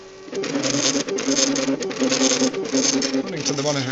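A 3D printer lays down a layer near the 8.61 mm height, its stepper motors giving a steady, close whirring hum with shifting tonal chirps as the head moves back and forth.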